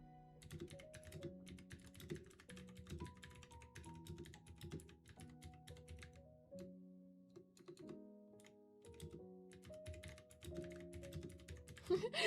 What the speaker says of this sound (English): I swear, if you hear me typing, I'm gonna be so upset.